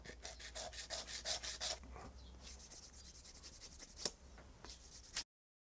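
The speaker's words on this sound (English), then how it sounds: "we just use sandpaper just to tidy up the edges" Sandpaper rubbing the edges of a handmade jewellery piece just cut with a piercing saw, a rapid series of close, quiet rasping strokes followed by slower, softer rubbing and a single sharp tap.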